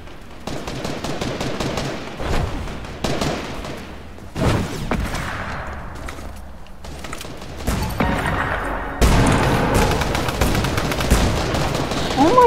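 Gunfire in the video game Fortnite, repeated loud bursts of rapid shots and single cracks with mechanical clicks between them, close, with some talking.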